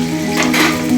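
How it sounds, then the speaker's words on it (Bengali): Potatoes fry in hot oil in a pan with chopped onions, a loud, dense, steady close sizzle that swells briefly in the middle. "আলুগুলো ভেজে নিব।"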